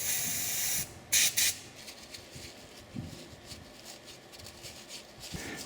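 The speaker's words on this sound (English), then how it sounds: "give the whole thing a quick blast with the brake cleaner" Brake cleaner gives a short loud aerosol blast onto the rear brake parts of a Grand Caravan, then two more quick bursts. A faint clanking from the workshop follows, with no talking.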